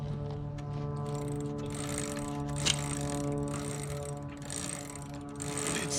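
The chain-driven rear wheel of a motorized tricycle powered by a Predator 212cc engine spins freely with a continuous whirring, ticking mechanical rattle and a steady tonal hum. The sound is close and even, with no talking.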